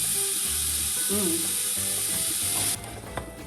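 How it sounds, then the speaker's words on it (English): Celery root and carrots sizzling in a pan while being stir-fried, a steady close hiss with faint clinks of stirring, quieter toward the end. "I'll stir fry this for a couple minutes here."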